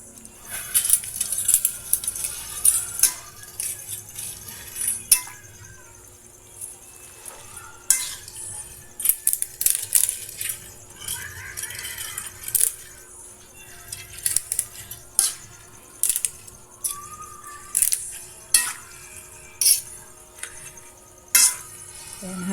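Pancit bihon and canton noodles being stirred in broth in a pot, with repeated sharp clinks and scrapes of a utensil against the metal in an irregular rhythm, close and fairly loud over a quiet simmer.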